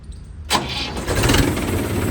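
A tractor engine cranks and catches with a sudden loud burst, then settles into a steady, rumbling idle close by.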